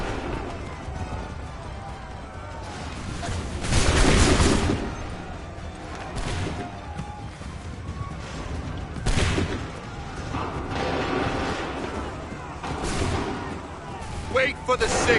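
Cannon and musket fire boom in Assassin's Creed III, heavy blasts and volleys landing at irregular intervals amid a continuous din of battle, with voices shouting commands between the shots.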